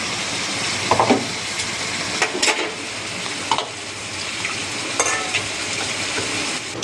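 Tomato paste and green chili paste sizzle in oil in a pan for a cauliflower and potato curry, a steady close frying hiss with a few louder bursts and stirring scrapes, and no voices.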